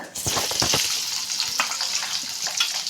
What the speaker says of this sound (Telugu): ఆయిల్ వేసుకున్నాము ఇప్పుడు నూనె కాపోయింది ఆవాలు వేద్దాం అలాగే జీలకర్ర కొంచెం ఇప్పుడు ఎర్రగడ్డ